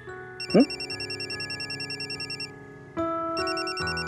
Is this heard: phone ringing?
yes